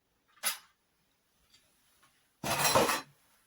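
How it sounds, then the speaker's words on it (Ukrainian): Lid lifted off a frying pan while an omelette cooks on the stove, a short metallic clink followed by a brief rattling clatter, heard close with quiet between. "тепер відкриваємо кришку"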